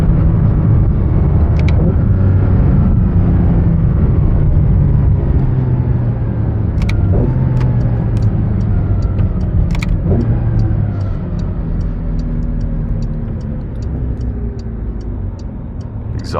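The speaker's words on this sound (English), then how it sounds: "Exhaust on it sounds so good too." A Porsche 992 911 GT3 RS engine rumbles deep and loud for a long stretch, its exhaust note rising and falling as it drives, with occasional sharp clicks.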